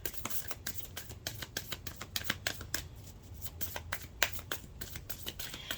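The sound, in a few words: shuffling Moonology oracle card deck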